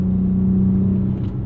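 The engine of a 2006 Infiniti G35 hums and revs briefly during a rev match, a loud, close, steady drone that holds and then eases slightly, with no voices.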